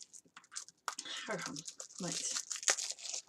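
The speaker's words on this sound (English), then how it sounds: "Sorry for the rustling." Crinkly rustling and tearing of advent box packaging, close and uneven in short bursts, with a voice speaking briefly over it.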